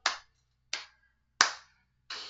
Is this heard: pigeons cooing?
no